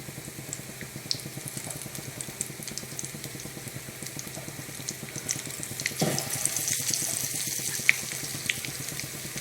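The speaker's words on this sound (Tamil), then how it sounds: "அப்படியே எண்ணெயில் போட்டு இப்போ இன்னொரு முட்டையும் போடுறேன்." Egg bonda, a battered egg, fries in hot oil with a steady bubbling sizzle, which swells into a louder, crackling surge as another battered egg drops into the pan.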